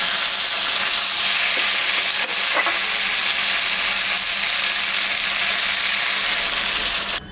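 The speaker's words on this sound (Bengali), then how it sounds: "তরকারিটা কষানো হয়ে গেছে, এখন আমি সামান্য জল দিয়ে দিই।" Vegetable curry, a navaratna-style curry, sizzling loudly and steadily in a pan after a little water is poured in, a dense continuous hiss with no voices.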